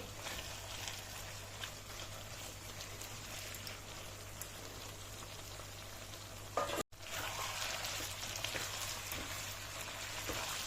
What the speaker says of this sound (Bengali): চিকেনটাকে দিয়ে ভালো করে কষিয়ে নেব।